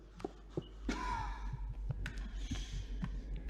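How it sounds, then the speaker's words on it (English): Heavy, ragged breathing with sighs and gasps, mixed with short rough coughs, plays from a Minecraft music disc over a low steady hum. It is close and fairly quiet, with a few faint knocks. "heavy breathing, and coughing."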